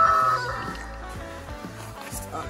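Chickens in a brooder give a steady mix of clucks and soft calls, fairly close and continuous, with a brief louder call near the start.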